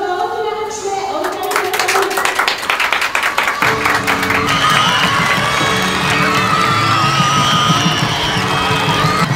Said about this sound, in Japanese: どうぞ大きな拍手でお迎え